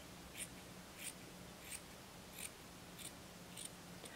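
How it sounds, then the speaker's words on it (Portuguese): Scissors cut fabric along a folded crease for a garment neckline, six crisp snips spaced at an even rhythm, close and quiet against a faint background hum. "Já tem aqui a linha, eu vou cortar ao meio."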